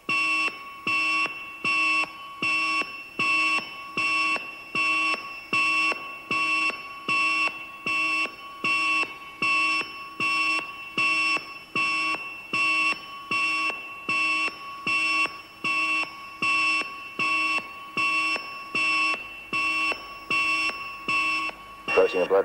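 An electronic alarm goes off during a surgical operation, sounding as a loud, regular train of bright repeated beeps in even pulses, about one per second, continuing throughout with no pause.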